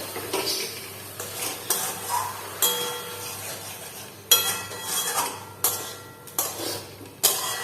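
Spices frying in a pan as hot water goes in, with a spoon scraping and stirring; repeated sharp clinks of metal on the pan recur every second or so over a soft background sizzle, close and alone.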